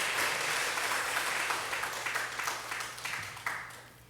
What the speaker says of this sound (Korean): 오늘 여러분들은 감사와 격려의 박수를 좀 보내주시기 바랍니다.